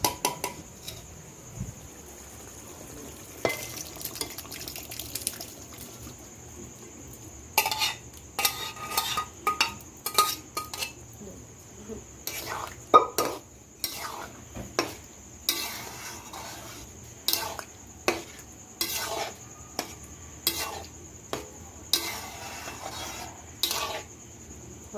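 A spoon scrapes and knocks rhythmically against a kadai as ghugni masala is stirred together with boiled potatoes, with a faint sizzle underneath and a quieter stretch at the start.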